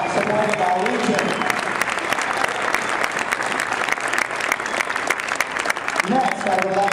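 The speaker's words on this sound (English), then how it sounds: "Give these guys a nice round of applause for coming out and supporting our region." An audience at a regional tournament opening in Phoenix, Arizona applauds out-of-state competitors, with dense, continuous clapping throughout and brief speech at the start and end.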